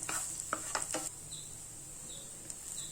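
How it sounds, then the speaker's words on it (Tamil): Grated coconut is sautéed in ghee in a pan while making Susiyam. A spoon scrapes and taps a few times against the pan over a soft, faint sizzle, then the stirring stops and only the gentle sizzle remains. "இதில் துருவின தேங்காய் போட்டு கொஞ்சம் லேசாக வதக்கலாம்"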